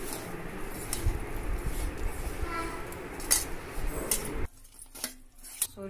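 A spoon stirs and clinks against a bowl as small fish are mixed with turmeric, a steady scraping with sharp metallic taps that stops abruptly near the end, leaving quieter scattered clinks.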